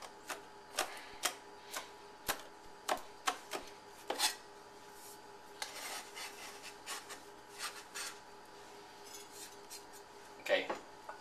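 A kitchen knife chops steadily on a cutting board as ingredients are minced for a steamed chicken with black beans dish, quick, irregular sharp taps, moderately close and fairly quiet.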